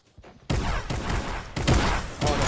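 Fortnite gunfire erupts in a dense burst of sharp, overlapping shots from close range, with repeated hits and a couple of louder volleys following in quick succession.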